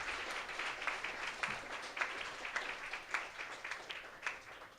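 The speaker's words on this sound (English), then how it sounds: "Round of applause, please, for those incredible, incredible tenant leaders." Audience members at a community housing benefit clap for tenant leaders, a soft, distant patter of many hands with slight swells and loose rhythmic peaks, fading gently toward the end.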